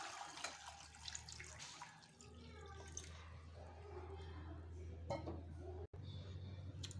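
Water poured into a cooking pot over boiled tapioca (cassava) in a home kitchen, a faint, steady trickling and splashing stream with small drips, low and close, with no talk over it.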